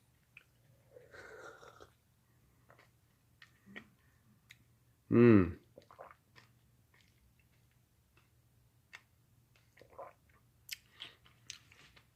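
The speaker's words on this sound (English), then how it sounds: "It's kind of like a drink chew experience with all the fruit skins." Someone chews a thick green fruit and vegetable drink with fruit skins from a glass jar blender, making soft wet clicks and smacks, with one loud burst midway and quiet pauses between.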